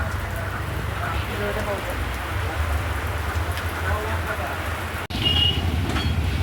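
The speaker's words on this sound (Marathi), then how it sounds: "बाहेर पडलो आणि पाऊस आला" Steady rain hisses and patters throughout over a low rumble, with a brief dropout near the end.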